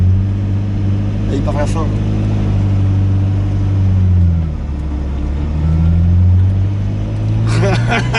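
A Ferrari F40's engine rumbles loud and close as the car pulls away, the note dipping and swelling through the run while someone talks excitedly over it.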